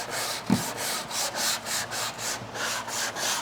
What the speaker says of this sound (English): We're just letting the sandpaper do the work.